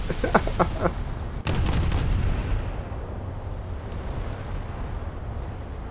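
Naval gunfire in War Thunder: a few sharp shots, then a heavy cannon blast that rolls into a long, loud, rumbling decay with no talking.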